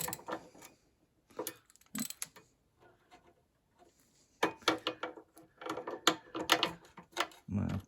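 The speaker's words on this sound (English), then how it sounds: "Not too bad with that 2-jaw puller." Close metallic clicks, creaks and scraping bursts come from a two-jaw puller forcing a front control arm bushing out of a 2019 Kawasaki Brute Force 4x4i ATV, in irregular clusters with quiet gaps between them.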